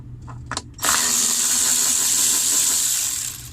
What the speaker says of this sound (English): remove the 8mm bolts holding the front of the console